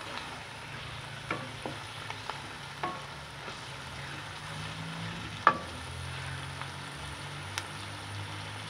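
Tomatoes and masala frying with a steady low sizzle in a pan for bhindi masala, broken by repeated clicks and scrapes of a spoon stirring, one sharper knock near the middle.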